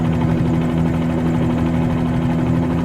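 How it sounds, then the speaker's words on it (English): A Bell 47G helicopter engine in Microsoft Flight Simulator 2020 drones steadily and loudly, a continuous low rotor-and-piston hum with strong tonal bands and no other sounds. "Actually the engine sounds a bit better."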